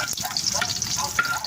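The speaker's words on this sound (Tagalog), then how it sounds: "Prituhin natin yung daing." Dried mackerel (daing na alumahan) fries in a pan, giving a steady close sizzle with crackly pops and brief spatters throughout.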